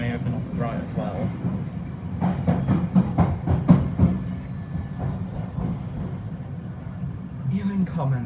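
A London Underground Piccadilly line train rumbles and clatters as it approaches Ealing Common, with steady low rolling noise and a burst of rhythmic wheel clicks, under an automated announcement voice.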